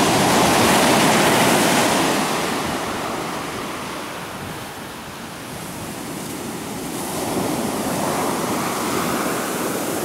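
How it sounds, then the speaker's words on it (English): Large ocean waves surge inland and wash across a parking lot, a loud, continuous roar of rushing surf that swells, eases and builds again, mixed with wind buffeting the microphone. "These waves are huge."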